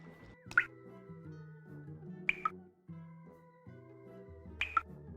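Water dripping in the Marathon 2: Durandal game, three sharp, bright drip plops spaced about two seconds apart over a steady low tonal hum of game sound.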